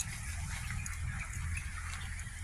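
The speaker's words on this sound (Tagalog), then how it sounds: "Yan may alaga silang wild duck guys." Kept wild ducks are heard in an outdoor yard, their soft low quacking repeating over a continuous watery gushing background at moderate distance.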